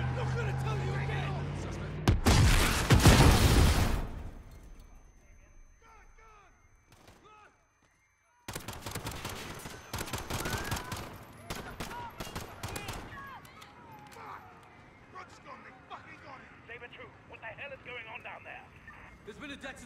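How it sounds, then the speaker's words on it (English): Gunfire in the Call of Duty Modern Warfare campaign around Piccadilly Circus: a loud burst of rapid shots early on, then scattered gunshots, clatter and chaotic action amid shouting voices. "Shots fired."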